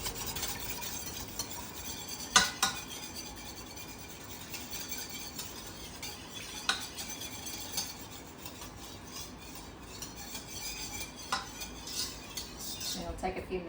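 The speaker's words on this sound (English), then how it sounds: "We're gonna stir this till it comes to a rolling boil." A spoon stirs homemade mayhaw jelly mixture in a pot, soft continuous scraping with a few sharper clinks against the metal, faint and close.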